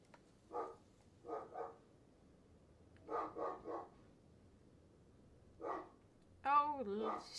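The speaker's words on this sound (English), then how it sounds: "he do be barking." A lively dog barks in a few short bursts at a moderate distance, separated by quiet gaps, followed near the end by a closer, higher whining or yelping sound; tagged as mixed with voice-like content.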